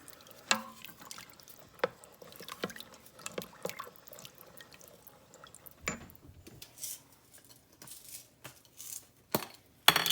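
Pinto beans and broth stirred in an Instant Pot, a spoon clinking and scraping against the metal insert in scattered close knocks with faint liquid sloshing between them.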